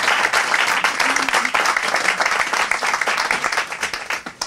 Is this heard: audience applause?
yes